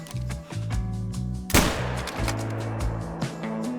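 A single sharp rifle shot at a deer in theHunter: Call of the Wild cracks out loudly against a soft rhythmic background score, leaving a brief ringing tail.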